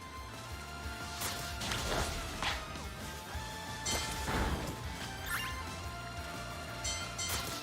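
Tinkaton's smashing attacks in Pokémon Violet land as repeated heavy crashes and thwacks, several hits with whooshing swings between them over a busy, steady game soundtrack with no talking.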